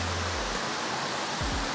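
Dao Falls, a cold mountain waterfall in Auring Village, Barangay Kawag, gives a steady broadband roar of falling water, close and constant throughout, with a couple of faint low thumps.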